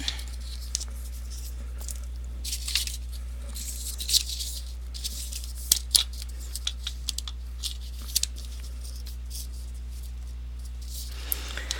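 Craft pieces being trimmed to size by hand: scattered soft snips, rustles and paper-like crinkles come in irregular bursts over a steady low electrical hum, with no talking.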